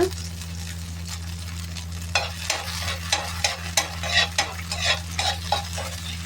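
Burger filling with butter and sauce is stirred on a tava, quick rhythmic metal scrapes and taps ringing over a constant sizzle and low steady hum.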